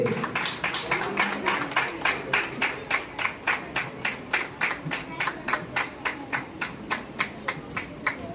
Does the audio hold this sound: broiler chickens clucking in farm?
no